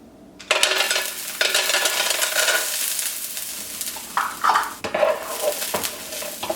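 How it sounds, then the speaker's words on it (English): Food stirred in a pan of hot avocado oil, with a utensil scraping and clinking against the pan over a steady sizzle, close by, several strokes and a few sharper knocks near the end, no talk. "Just gonna stir this up and let it cook a little bit."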